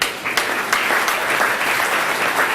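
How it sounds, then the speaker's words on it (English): Sustained applause from an audience at an awards event, a thick, even spread of clapping with a few sharper claps standing out, no voices on top. "a massive round of applause"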